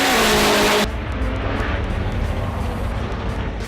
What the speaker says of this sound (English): We can see hundreds of spectators, hear the roar of the engines